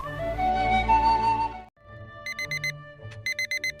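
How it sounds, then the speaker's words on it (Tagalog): An alarm clock rings in two bursts of rapid, bright electronic beeps, coming right after a sustained musical tone, close and fairly loud with no talk over it. "Di mo ka dinangag di alarm clock."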